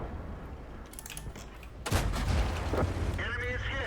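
A video game gunshot bursts out partway through, loud and booming, followed by a rumbling tail, under ongoing talk and game sounds.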